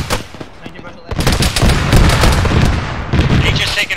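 Arma 3 gunfire in the Blue Valley battle erupts as a loud, close burst of rapid shots that merges into a sustained roaring rattle, then tapers slightly over a few seconds.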